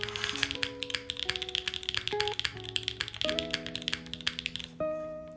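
Someone types on a Freja65 mechanical keyboard, rapid close-up key clacks in a steady stream over a soft background of sustained music tones.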